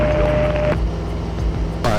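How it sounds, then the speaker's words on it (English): A light aircraft engine's steady drone drops partway through when the mixture is leaned, shifting to a lower, rougher running sound before a brief change near the end. "How the engine just kind of took a dive a little bit."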